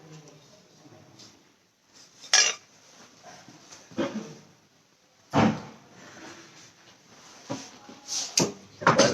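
Cooked cottage cheese mixture being spooned into a bowl: intermittent scraping and clinks of utensil against cookware, a few louder knocks, close by, with quiet gaps between.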